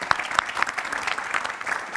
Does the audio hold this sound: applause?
yes